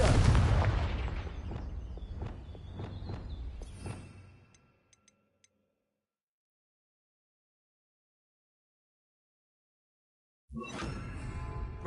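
Confringo fire-blast spell in the Hogwarts Legacy video game, a run of loud booming blasts and crackling bursts that fade over four seconds, then near silence before another burst of noise near the end.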